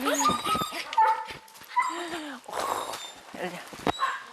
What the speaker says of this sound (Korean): 무슨 일인지 좀처럼 짖음이 멈추질 않습니다.